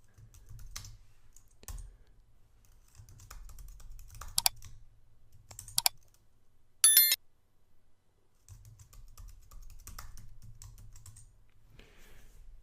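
Close, quiet typing on a computer keyboard while entering a Linux terminal command, with bursts of key clicks and a few sharper clacks, over a low background hum that drops out for a moment.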